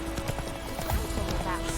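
The horse Roach trotting in The Witcher 3, brisk clip-clop hoofbeats close by under background game sound, with a rider's voice over them.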